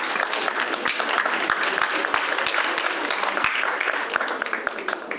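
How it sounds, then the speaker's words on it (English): Audience applause at a university biology department meet-and-greet, a dense, steady wash of many hands clapping for several seconds, filling the room without a break. "So that round of applause is very well deserved."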